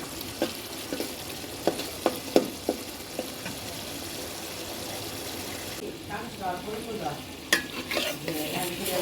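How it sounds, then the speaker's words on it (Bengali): Spice paste sautéing in a pan for a gourd and rohu fish curry, a steady sizzle with repeated clacks of a stirring spoon, close, with faint talk in the background. "লাউ রুই মাছের রান্না। মশলাটা কষুক।"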